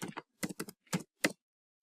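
Code is typed on a computer keyboard in short, close bursts of crisp key clicks, separated by brief pauses and followed by quiet.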